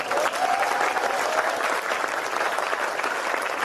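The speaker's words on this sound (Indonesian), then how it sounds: "Untung tepuk tangan." Steady crowd applause for a speaker at a lecture, a continuous rustling clatter of many hands held at a constant, moderate level from start to finish.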